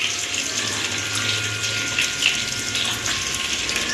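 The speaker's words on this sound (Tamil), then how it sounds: "அந்த தக்காளியை கரைச்சிடணும்" A tomato is squeezed and dissolved by hand in water for a fish curry, producing a close, continuous wet sloshing and swishing with no speech over it.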